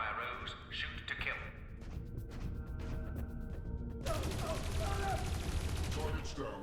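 Gunfire at a fleeing runner in the adventure game Dreamfall Chapters: a sustained burst of rapid, dense shots, preceded by scattered cracks and clatter, with a steady hum underneath.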